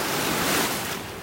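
Ocean surf on a North Naples, Florida beach breaks as a broad close rush of noise with wind buffeting the microphone, swelling and then easing off.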